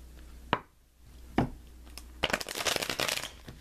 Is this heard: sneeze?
no